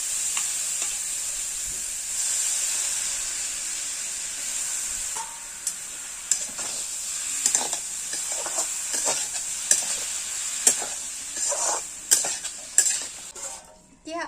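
Mushrooms go into a pan of potatoes already fried with turmeric and salt, hissing in a steady close sizzle while a utensil stirs and scrapes against the pan in a series of clinks.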